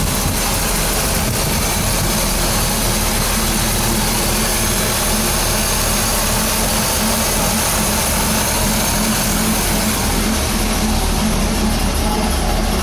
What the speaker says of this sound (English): You can hear that exhaust from here.